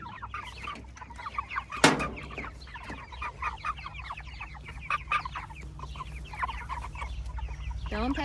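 A flock of six-and-a-half-week-old Cornish Cross meat chickens clucks and chirps steadily at close range, with a brief loud flutter early on over a low background hum.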